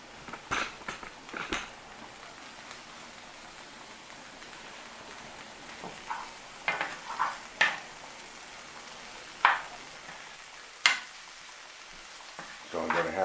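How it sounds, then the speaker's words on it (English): Food browning in a pan while being stirred, with a soft steady sizzle under intermittent scraping strokes of a utensil, fairly quiet and close, no talk. "breaking this up and stirring it up so it gets all nice and brown all evenly"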